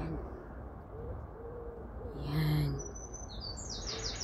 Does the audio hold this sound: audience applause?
no